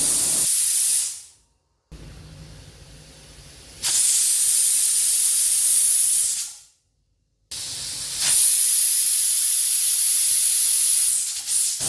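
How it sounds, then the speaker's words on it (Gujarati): A pressure cooker cooking urad dal on medium heat hisses loudly, releasing steam in long whistle bursts with brief pauses between them, a bright, harsh spray of sound close by. "કુકરનું ઢાંકણું બંધ કરી ત્રણ વિસલ સુધી મીડિયમ તેમ પર સારી રીતે દાળને બફાવા દેશું"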